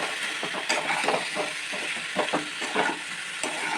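Close-up frying of raw and ripe mango in a kadai for a sweet-sour chutney, with a soft sizzle and repeated scraping strokes of a spatula stirring, no voices.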